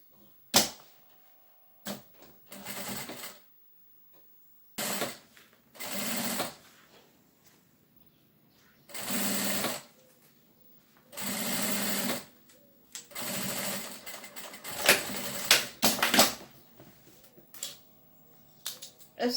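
Sewing machine stitching a seam on an embroidered bag, running in short bursts of a few seconds each, separated by quiet pauses, close and fairly soft, with no talking over it.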